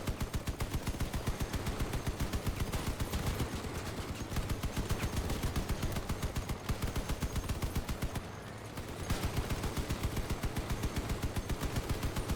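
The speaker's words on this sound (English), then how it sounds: "Just a minute of pure firing doesn't kill this thing." Sustained rapid machine-gun fire from a vehicle weapon in the game Crossout, loud and continuous in a fast rhythmic stream, with one brief pause near the end before firing resumes.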